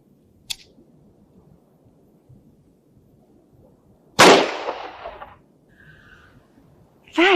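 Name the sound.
revolver firing dummy and live rounds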